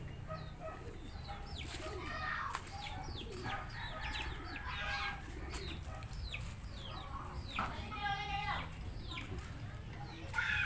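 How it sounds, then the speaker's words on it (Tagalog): Backyard chickens gathered at their evening feeding beside a hut, clucking and cooing birds mixed with brief chirps, moderately close but quiet over a low steady background hum. "Dito naghahapunan yung mga manok"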